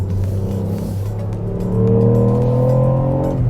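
A Ford Puma ST's three-cylinder engine accelerates with a loud, close, rising hum whose pitch climbs steadily as revs build, heard without talk.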